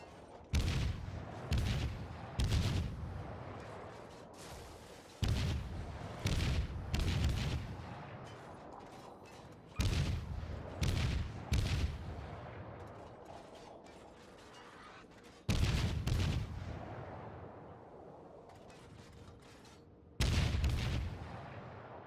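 Naval guns fire in World of Warships, repeated heavy booming salvos in clusters every few seconds, each followed by mechanical creaks and rumbling decay, loud and close with no talk.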